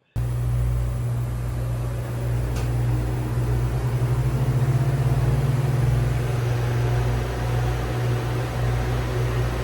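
A universal 9721 evaporator fan motor in a beer cooler runs with a steady low hum and airy whoosh, close and constant throughout, a faint rhythmic flutter swelling midway, with no talk.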